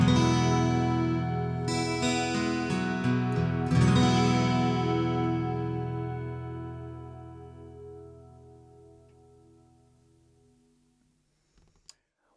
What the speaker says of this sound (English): what the kind of classic Transacoustic thing was doing was it had a reverb and it had a chorus built into it